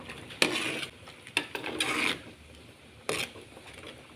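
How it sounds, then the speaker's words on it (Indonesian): Clear vegetable soup with young papaya and muteue leaves keeps bubbling in a clay belangong pot after the fire is out. Soft, close bursts of bubbling and sizzling come and go irregularly over a quiet background. "Api sudah mati, tapi masih tetap mendidih karena menggunakan tempat masak dari tanah."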